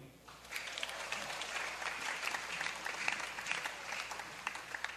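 Steady applause from a sizable audience, a continuous wash of clapping at moderate distance with no break.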